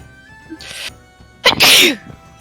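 A single loud sneeze with a sharp intake and a burst of breath, close by, preceded by a faint sniffling breath.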